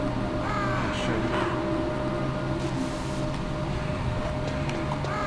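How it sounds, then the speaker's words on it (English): Crows caw repeatedly in the video game Metal Gear Solid, harsh calls rising over a constant dense game ambience with no voices. "Let's see if we can kill some crow."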